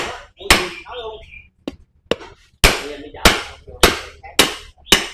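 Roughly eight sharp metallic hammer blows knock a bearing and seal out of a Honda PS motorcycle, landing close and loud in an uneven rhythm with short gaps, and a few faint voices and small clatters fall between strikes.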